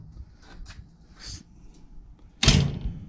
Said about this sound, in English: if you didn't hear that door, let me open.